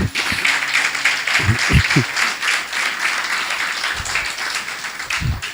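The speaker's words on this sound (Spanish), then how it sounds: "Démosle un aplauso a nuestras madres." A church congregation applauds mothers with a steady wash of clapping, a few louder taps and thumps cutting through.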